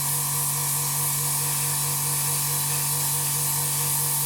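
Paint base coat is sprayed onto a scale model in one steady, loud, unbroken hiss that lasts throughout, with no voices.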